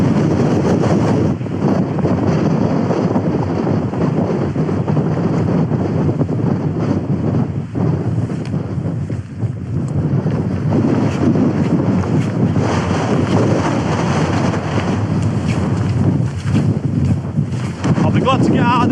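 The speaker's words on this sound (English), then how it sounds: "I'll be glad to get out of this wind once we start dropping down a little bit" Strong wind buffets a hillside tent camp, a loud continuous roar and rumble against the microphone that stays steady throughout.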